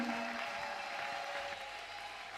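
A crowd at a mass prayer gathering applauds and cheers in a steady, dense wash of clapping that carries through the whole stretch.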